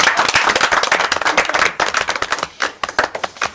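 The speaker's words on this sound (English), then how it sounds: "We can clap for them." A group claps together for the winning team of a biodiversity card game, a burst of dense, close applause that thins into scattered, uneven claps toward the end.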